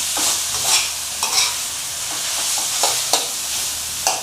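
A northern Thai dish of bamboo shoots and oroxylum pods is stir-fried in a pan, with a steady close sizzle and repeated scraping stir strokes against the pan, and no voices.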